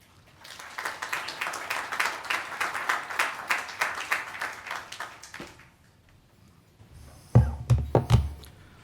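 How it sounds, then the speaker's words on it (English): An audience at a Newsweek sustainability conference gives a warm round of applause that lasts about five seconds and fades out, followed by a few louder, closer thumps and claps. "Please join us in welcoming to the stage with a warm round of applause, Executive Vice President of Newsweek, Amit"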